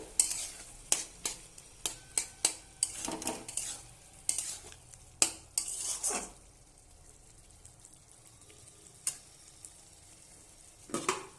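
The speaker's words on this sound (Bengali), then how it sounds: "তো এবার আমি ভালোভাবে কষাবো আলুটাকে।" Potatoes are stir-fried with spice masala in a pan, heard as a close sizzle broken by a rapid run of sharp spatula scrapes and clacks, then a quieter stretch and a few more scrapes near the end.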